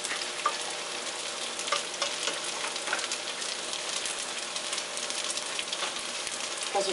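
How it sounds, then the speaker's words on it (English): Sweet anchovies frying in cooking oil with syrup while being stirred, a dense, close, crackling sizzle like rain on a surface, steady throughout with small pops and no voices. "Basically, you're stirring. That's all with the cooking oil."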